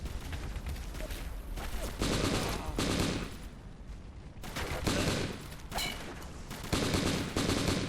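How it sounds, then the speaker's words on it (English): M4 rifle fire in the video game M.I.A.: Mission in Asia, repeated automatic bursts of loud gunfire separated by brief pauses, with no talking over it. "This M4 sound effect reminds me of something from some Call of Duty"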